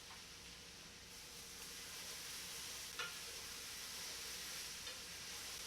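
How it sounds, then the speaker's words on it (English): Spinach wilts in a hot pan while being stirred for a vegetarian lasagna, a steady soft sizzle and hiss with a faint scrape of the utensil partway through. "Give it all a good stir."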